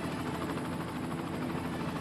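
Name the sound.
helicopter in the video game Cities: Skylines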